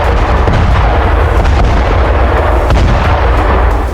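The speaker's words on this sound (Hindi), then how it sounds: "इजराइल ने एक इमारत पर जबरदस्त ड्रोन अटैक किया, जिसके बाद बड़ा धमाका हुआ" A drone strike on a building in Jenin, West Bank, sets off a big explosion: a loud, sustained roar with sharp cracking bursts running through it and no voices.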